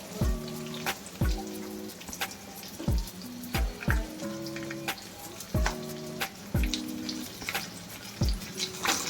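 Onions sizzle in hot oil in a pan for mutton head curry, a steady frying hiss broken by regular spatula knocks and clattering strokes about once a second.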